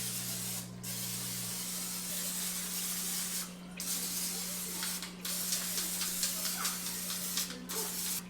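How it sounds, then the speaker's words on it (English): Cooking spray hisses onto vegetables on roasting trays in several separate bursts, a few long and some short in quick succession, close and steady over a low kitchen hum. "I forgot to spray them and season them."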